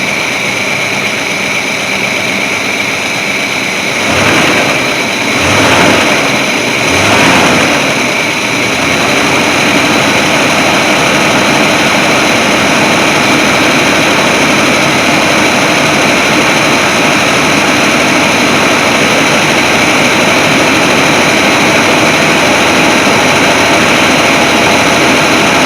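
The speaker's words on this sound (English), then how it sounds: "I'm going to go ahead and rev it a couple times." A carbureted Chevy C30 squarebody truck engine idles steadily, then revs up a few times in quick succession around the middle before settling back to a constant rumble.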